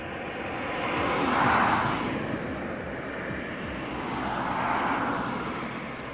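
A light sport plane's engine drones overhead, rising to a peak, easing off, then swelling again as it passes at a moderate distance.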